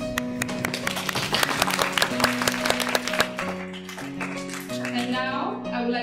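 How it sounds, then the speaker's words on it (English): Applause for the international students at a Malam Malaysia 2019 event, with scattered clapping mixed under prominent background music that carries sustained tones and a melody throughout. "Let's give them a round of applause"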